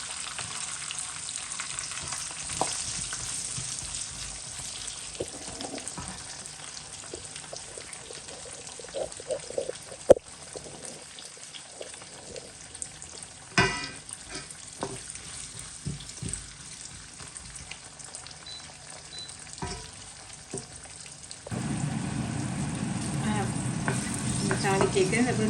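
Steady sizzling of onions frying in hot oil, with occasional stirring scrapes and clinks; the sizzle grows louder near the end.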